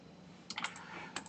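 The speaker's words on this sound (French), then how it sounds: "je vais appuyer sur la touche Alt de mon clavier" Typing on a computer keyboard during 3D modelling work, a few quick clustered keystrokes followed by another short burst, close and quiet over a faint steady background hum.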